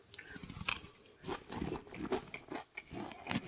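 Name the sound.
crunch of eating Chinese chicken salad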